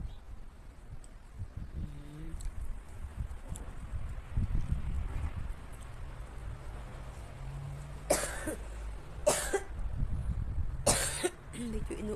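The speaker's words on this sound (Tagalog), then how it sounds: "Medyo inuubo din tayo ngayon guys," A few short coughs in a cold outdoor garden among flowers and vegetables, bursts near and moderately loud over a low background hum.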